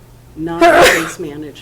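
A single sharp sneeze during a school board meeting, loud and close, between stretches of a person speaking.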